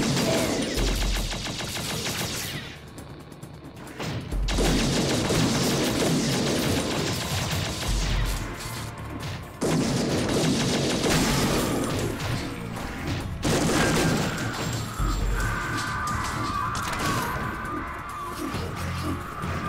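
Gunfire from the alien-shooter video game Shadowgrounds Survivor, loud dense bursts of shots and crashing impacts running almost continuously, broken by a few brief pauses, with heavy low thumps recurring every few seconds.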